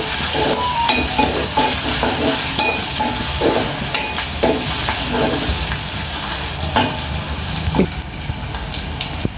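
Ginger garlic paste with green chillies fries in a pan for an egg gravy, a steady loud sizzle with scraping stir strokes and clinks throughout, no talking.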